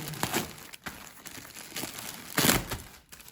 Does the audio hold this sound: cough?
no